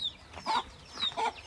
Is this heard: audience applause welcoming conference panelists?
no